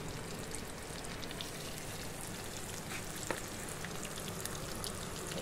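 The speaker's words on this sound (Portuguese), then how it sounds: "esperar um pouquinho até fritar essa aqui para nós tirar" Steady, dense crackling sizzle of breaded fish frying in hot oil, continuous and even throughout with occasional sharper pops.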